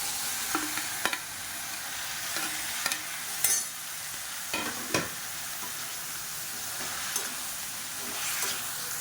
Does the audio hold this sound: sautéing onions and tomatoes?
yes